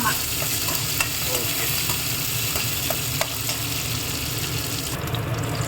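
Brinjal sautés in a pan for a curry, giving a dense, steady sizzle with occasional stirring scrapes and light clicks, close and continuous, with no voices.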